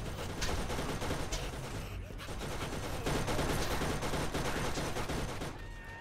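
Sustained rapid turret gunfire in the video game Borderlands, a dense continuous barrage of shots that stays loud for several seconds with only a brief dip.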